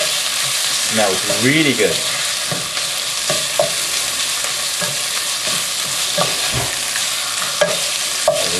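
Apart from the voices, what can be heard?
searing and stir-frying beef with ginger and garlic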